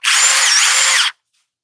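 A cordless impact driver, compared against a Milwaukee and a Hercules, drives a 1/4 by 4 inch screw in one loud, steady burst of about a second with no talk, then stops abruptly into silence.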